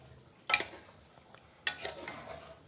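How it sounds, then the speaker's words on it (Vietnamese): A utensil scrapes through thick bánh đúc batter in a cast pot as it is stirred, two sharp scraping strokes with quieter rasping between. "Phải đảo liên tục á."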